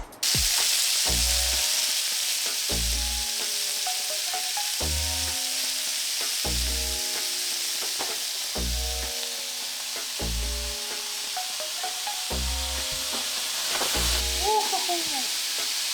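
Onions, beef and liver saute in a pan for Filipino Pigar Pigar, a constant loud sizzle beneath regular low thumps and a voice talking throughout.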